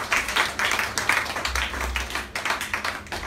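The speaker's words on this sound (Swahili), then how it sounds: "Pigia Bwana makofi makubwa." A church congregation clapping loudly for the Lord, many hands beating in quick, roughly rhythmic bursts that form a steady pulsing patter, with a low hum from the room beneath.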